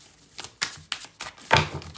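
Tarot cards are shuffled close up in a series of four or five quick, crisp riffling bursts of paper card stock, with no talk over them.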